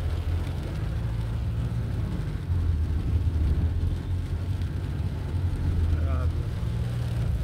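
Road traffic in Pasig, with a steady low rumble of passing cars and engines throughout and a person talking over the continuous vehicle noise.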